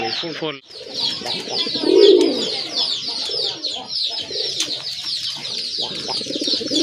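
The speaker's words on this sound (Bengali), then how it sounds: "পেছনে যেটা আছে এটা হচ্ছে মাদি, সামনেরটা নর কবুতর" Native deshi pigeons, a male and female pair, coo in soft repeated throaty calls close by, one low coo standing out, while someone talks over them.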